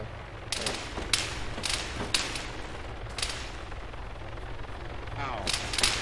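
Gunfire during a rotary training session in a video game, sharp single shots cracking every second or so over a steady low background hum, with a voice talking faintly underneath.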